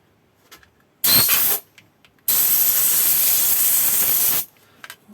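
Compressed air blasts through the oil holes of a Motor Sich 475 chainsaw during cleaning, one short hiss followed by a longer steady burst of about two seconds, loud and close with no talking.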